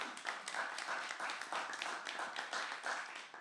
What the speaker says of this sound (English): So give yourselves a round of applause for doing such a brilliant job.